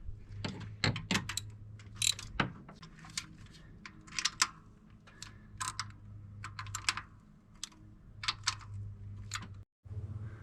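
A ratchet snugs down bolts on the intake manifold of a 1993 Chevy Silverado K3500 with a 7.4L TBI engine, clicking in quick close bursts of rapid pawl ticks separated by short pauses, over a faint hum.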